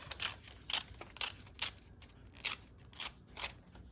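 Gift wrap paper being torn in a series of short, crisp ripping bursts, about eight quick tears at a close, quiet level with no voices.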